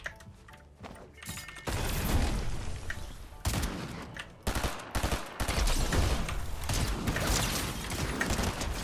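Drum gun gunfire in Fortnite Zero Build: dense, rapid bursts of automatic shots, loud and close, with a brief pause before the firing resumes and continues steadily to the end.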